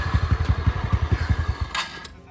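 A motorcycle rides through traffic on the road from Kathmandu to Kohalpur, its engine thumping in a fast, even pulse close by. The beat fades out near the end, followed by a brief hiss.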